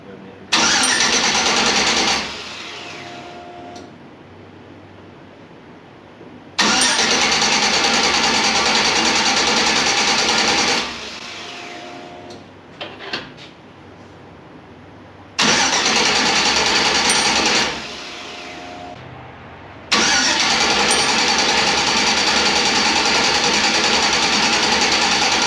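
An old car engine cranks and runs rough on dead gas, loud bursts of ragged running broken by pauses, starting and stopping several times, with a few faint clanks between runs.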